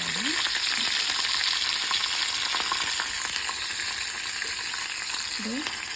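Peanuts and curry leaves fry in oil in a pan for lemon rice while being stirred. A steady, close sizzle runs throughout, with light scraping from the stirring and a couple of brief vocal sounds.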